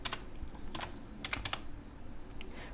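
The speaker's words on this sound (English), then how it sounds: "Type your calculator code" Fast, light clicks of a computer keyboard as someone types code, irregular bursts of keystrokes with short pauses, quiet and close with no one speaking.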